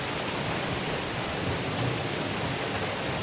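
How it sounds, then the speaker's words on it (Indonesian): The Curug Goa Lumut waterfall in Bogor gives a steady, dense hiss of falling water, even and unbroken from start to finish, with no voices. "Curug Goa Lumut ini pancuran airnya seperti keluar dari goa yang berselimut lumut"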